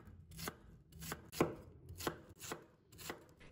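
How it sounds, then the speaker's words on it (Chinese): A knife cuts Chinese yam into thin slices on a cutting board, about seven evenly spaced chopping knocks, close but soft, with no talking. "放入案板上，把它切成薄片，片尽量切薄一点"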